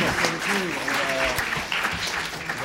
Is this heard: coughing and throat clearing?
no